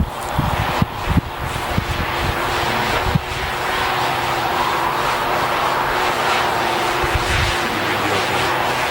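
A DJI Mavic Pro drone hovers and descends, its steady buzzing propeller whine held at an even level throughout, with a few low thumps and wind bumps near the start.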